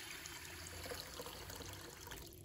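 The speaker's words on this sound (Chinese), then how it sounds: "然后我们再倒入清水" Clean water poured into a bowl of mung beans, a steady soft trickle and splash, faint and continuous throughout.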